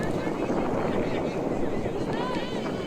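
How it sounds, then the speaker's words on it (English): Steady wind buffeting a microphone at an outdoor women's Australian rules football match, a dense low rumble throughout with faint background noise, no clear voices. "You can hear the wind in the effects mic."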